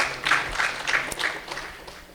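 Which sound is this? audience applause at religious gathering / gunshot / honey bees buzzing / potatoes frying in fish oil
audience applause at religious gathering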